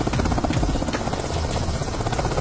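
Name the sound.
helicopter flying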